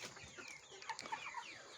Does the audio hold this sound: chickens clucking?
yes